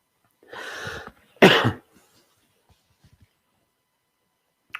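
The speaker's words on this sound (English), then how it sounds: "Sorry to cough in your ear." Close-up coughing into a microphone during a morning meditation session: a rough throaty hack followed by a sharper, louder burst, then quiet with faint small noises.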